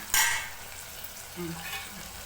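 Chopped tomatoes cooking down in a pan for egg biryani, with a sharp stirring scrape at the start, then a soft steady sizzle and faint utensil clinks close by.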